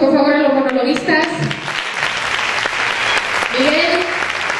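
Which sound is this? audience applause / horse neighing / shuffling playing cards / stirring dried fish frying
audience applause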